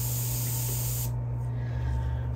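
Airbrush spraying paint at about 15 PSI onto a sunfish swimbait: a steady close hiss of air and paint that drops sharply partway through, leaving a softer hiss over a constant low compressor hum, with no talk.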